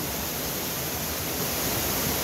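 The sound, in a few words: waterfall at Mahogany Falls, Trece Martires, Cavite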